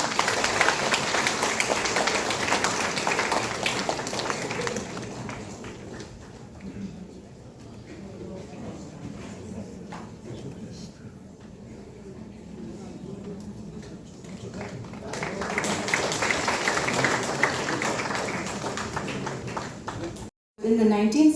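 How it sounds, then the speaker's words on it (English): Audience applause at a constituency event in South Shillong, a dense burst of clapping at the start that fades into murmur and background talk, then swells again into loud clapping before cutting off abruptly. "give them a big round of applause"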